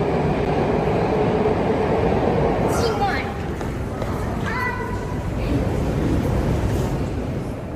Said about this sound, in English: I'm going down into the Moscow metro because somewhere here, deep underground